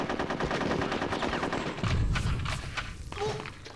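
Rapid automatic gunfire in the World War-themed squirrel level of the video game Conker's Bad Fur Day, with fast repeated bursts, a few heavy thuds, and a voice talking over the shooting.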